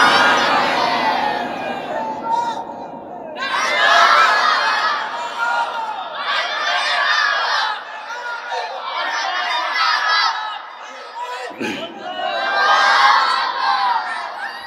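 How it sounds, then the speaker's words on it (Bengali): A large crowd at a Bangla waz religious gathering shouts takbir with raised hands, four loud, sustained collective roars separated by short lulls, filling the space close and dense. "তাকবীর দিয়ে দেখাও।"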